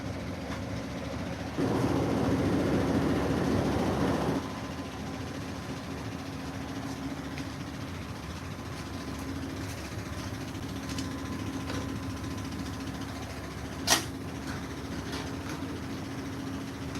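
A modern washing machine spinning at about 900 RPM gives off a steady, close rumbling drone, with a louder whooshing surge early on and a single sharp click near the end; no one speaks.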